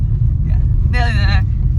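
Steady low rumble of a car driving, heard from inside the cabin, loud and continuous throughout, with a brief voice cutting in over the engine noise.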